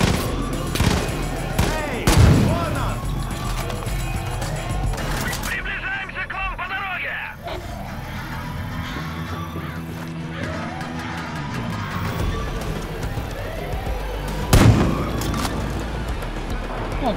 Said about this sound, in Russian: Я их просто со снайперки всех проснимал.